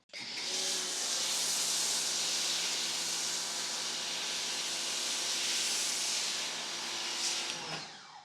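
A single Ryobi pressure washer unit sprays water in a high-flow automotive wash setup, giving a steady, loud, close hiss that runs unbroken for several seconds before cutting off.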